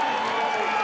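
A rugby crowd at the 2018 June tour match between the United States and Scotland keeps up a steady, dense roar of cheering for under a second, filling the stadium air.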